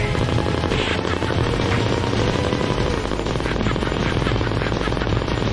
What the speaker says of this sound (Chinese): 啊，一顿左右枪啊